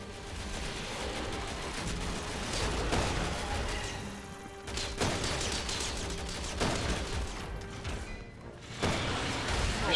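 Gunfire and crashing combat noise in the video game Resident Evil 6, a dense, continuous barrage of shots and impacts with several sharp bursts standing out near the end, loud throughout with no talking.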